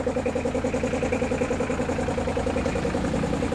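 A freshly overhauled Mitsubishi Pajero 4D56 turbo diesel engine idles close by, a loud rhythmic diesel clatter with steady pulsing beats, continuous and without speech.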